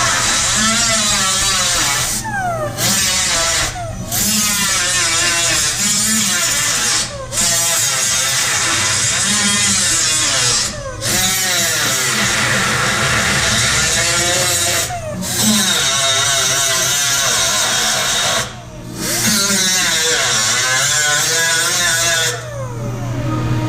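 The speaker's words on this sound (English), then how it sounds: "we're going to get busy doing some welding" MIG-style welding on the car body panels of a 1973 Challenger during A-pillar and under-seat floor replacement gives a loud, close, continuous crackling buzz in long bursts, broken by short pauses every few seconds.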